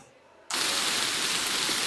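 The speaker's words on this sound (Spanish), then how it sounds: "Escucha cómo comienza. Está lloviendo" Rain falling outside, a dense, steady hiss that starts abruptly after a brief quiet moment and continues loud and even.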